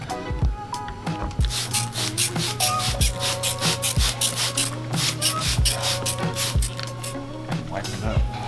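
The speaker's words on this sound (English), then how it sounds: "And squeegee." A squeegee pressed in repeated rubbing strokes across paint protection film on the door of a 2021 BMW M4 Competition, close and fairly rhythmic over a steady background hum.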